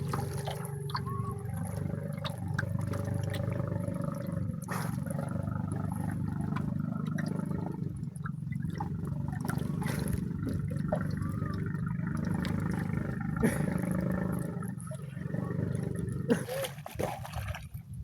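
Clear sea water off Dinagat Island washes and splashes steadily close by, a continuous watery roar through the whole stretch, with a person talking over it now and then.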